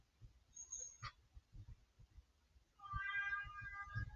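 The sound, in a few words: cat meowing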